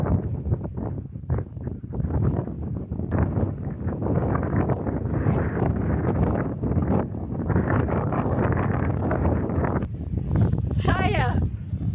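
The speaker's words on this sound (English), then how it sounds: "Yeah, too windy." Strong wind at the clifftop headland of Downpatrick Head, Ireland, buffets the microphone in a constant roaring rush, with a person talking through it and a brief bird call near the end.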